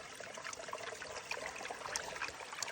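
Faint, steady trickling and sloshing of creek water as a gold pan is washed out in a Pennsylvania creek, a continuous soft wash with small splashes throughout.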